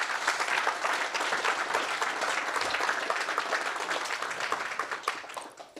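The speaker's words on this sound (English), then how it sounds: "So big round of applause." Conference audience applause rises at once into brisk, dense clapping, holds steady for several seconds, then thins out and fades near the end.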